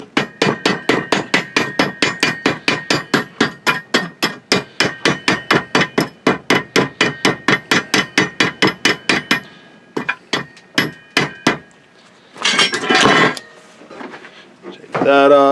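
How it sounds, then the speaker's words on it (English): Chipping hammer knocking slag off flux core welds on a CB360T chopper build, a long run of rapid, evenly spaced close metallic taps, then a few slower scattered knocks and a brief scraping rattle. "Chipping hammer, because flux core,"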